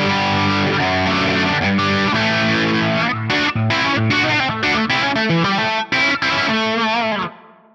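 An electric guitar plays chords and a melodic run through a swirling, distorted rotary speaker effect, loud and up close, ending with a decaying final note.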